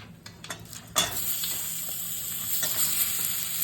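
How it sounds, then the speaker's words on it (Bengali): Turmeric and salt are stirred in a frying pan for a sour tamarind dish with sweet potato, pumpkin and papaya: a handful of light spatula taps, then a sharp clatter and a steady sizzle under repeated scraping. "হলুদ আর সাইডে লবণ, এটা দিয়ে একটু নেড়ে দিচ্ছি।"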